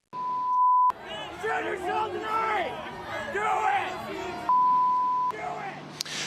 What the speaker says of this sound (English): Law enforcement holding the line against angry protesters who can be heard screaming